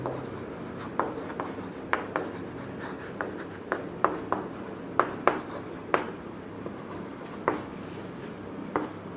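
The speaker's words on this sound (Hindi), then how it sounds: "फिर हम ये लाइन लिखते हैं" Chalk or a marker writes a line on a classroom board during a physics lesson, making a series of short, light taps and strokes at an uneven pace over a faint background hum, with no talking.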